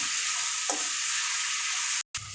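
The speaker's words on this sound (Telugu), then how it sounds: "పసుపుని యాడ్ చేసుకొని అటు ఇటు కదిలిస్తూ ఫ్రై చేసుకోవాలి" Broad beans with turmeric fry in a pan with a steady, close sizzle, a single stirring knock early on and a brief drop-out near the end, no voices.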